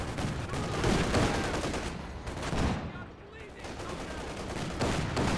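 Sustained heavy machine gun fire from a DShK firing armor-piercing rounds in Company of Heroes 2, a continuous rattling stream amid battlefield noise with a caster talking over it.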